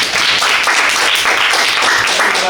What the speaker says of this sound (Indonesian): tepuk tangan untuk tim pertama